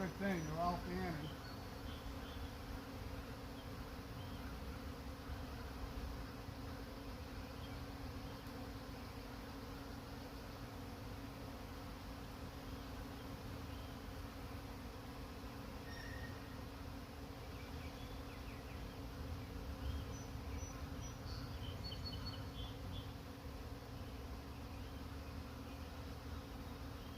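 A honeybee swarm fans steadily outdoors in Hopkinton, Massachusetts, a dense, even insect drone that holds for the whole stretch at moderate level, with a few faint passing buzzes on top.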